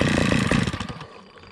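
A vintage Stihl 011 AV 41cc chainsaw running during carburetor adjustment, a loud buzzing two-stroke engine with a rapid rough pulse that drops off quickly after about a second.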